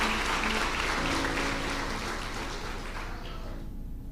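A church congregation in Amapá, Brazil, applauds with dense, continuous clapping that holds at full strength and then tapers off in the last second.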